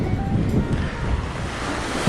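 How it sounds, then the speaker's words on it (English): Waves crash on a beach in Puerto Vallarta, Mexico, a steady close roar of surf mixed with gusty wind noise against the microphone, with no voices. "So now we're on the beach and these waves are a little more crashy, a little bigger."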